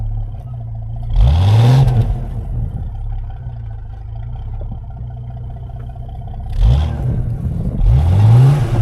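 A car stuck in snow revs its engine in two loud surges, each with a rising whine of spinning wheels, separated by steadier idling.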